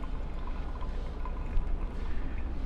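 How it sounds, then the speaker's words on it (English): A heavy, quiet pour of water into the middle of a V60 coffee bed brewing an Ethiopian coffee, a continuous soft splashing trickle lasting a few seconds without any voices. "Heavy pour here in the middle"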